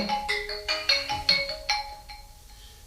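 A phone rings with a bright electronic melody of repeating tones, triggered by a panic button system calling a registered number, fairly close and clear in a quiet room.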